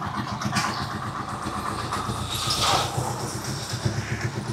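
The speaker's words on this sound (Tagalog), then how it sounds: "Ito yung under ng makina niya. Napakatahimik, matining." A Rusi Chariot 175 motorcycle idles quietly and steadily close by, its low, even engine rumble continuing without pause and with no talk over it.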